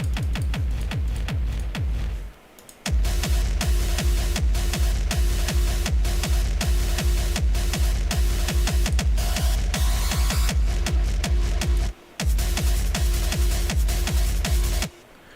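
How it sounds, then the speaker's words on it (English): A hard techno kick drum built in FL Studio 20 pounds in a fast, even four-on-the-floor pattern, each hit a punchy, distorted thump with a falling pitch, loud and dense, with two brief dropouts. "it's a higher quality hard techno kick"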